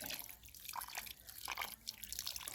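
A kitchen tap runs gently while fish is rinsed for Thai fermented fish, giving a faint, steady trickle with soft drips and splashes close by and no talking.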